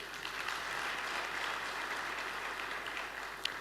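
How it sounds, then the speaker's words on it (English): Sustained audience applause at a regional sustainable energy conference, even and steady throughout at moderate loudness, with no talk over it. "Let's give him one last round of applause."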